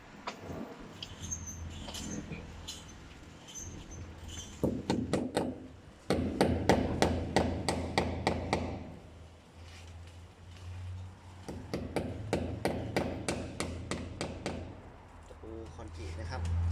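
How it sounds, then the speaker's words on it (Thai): Nails hammered into a wall to give plaster grip for decorative stucco work, bursts of rapid close metallic hammer strikes separated by pauses, with someone talking and background hum. "เราก็มาตีตะปู เพื่อที่จะโกนปูนนะครับ ให้ ปูนมันเกาะผนังนะครับ"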